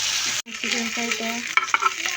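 Chicken frying in mustard oil hisses steadily in a pan, with a brief cut-out near the start and a few clinking stirs toward the end, close and continuous.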